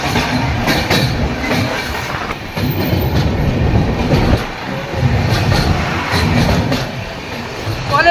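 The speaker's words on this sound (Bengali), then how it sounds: "আরেকটা ব্রিজ গঙ্গার ওপর দিয়ে এখন এগিয়ে যাচ্ছে" An Amrit Bharat Express train rumbles across a bridge over the Ganges, loud and close, with steady clickety-clack wheel beats and metallic rattling running throughout without pause.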